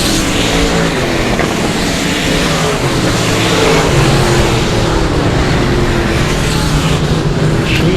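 Race cars roar around a dirt track during qualifying night at the South Texas Nationals, a dense, steady engine drone with rising and falling pitch sweeps as cars pass, loud and continuous throughout.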